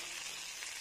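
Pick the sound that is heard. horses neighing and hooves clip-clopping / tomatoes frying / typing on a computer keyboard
tomatoes frying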